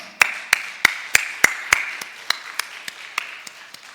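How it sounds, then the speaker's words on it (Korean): A church congregation at a New Year dawn prayer service claps in a slow, even rhythm, about a dozen distinct claps that fade gradually over a quiet room. "우리를 구원의 공동체에 들게 하신 하나님께 영광의 박수 올려드리겠습니다"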